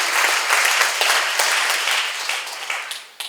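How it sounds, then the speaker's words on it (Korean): Church audience at a Korean seminar applauding steadily, a dense, loud wash of many hands clapping that fades slightly toward the end, with no talk over it. "박수를 하세요"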